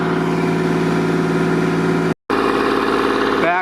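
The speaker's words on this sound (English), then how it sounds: "this engine sounds a lot better than before" A Kubota L2501 tractor engine with a new electric fuel pump idles close by, a loud, even diesel chug with a regular pulsing rhythm, broken once by a brief cut.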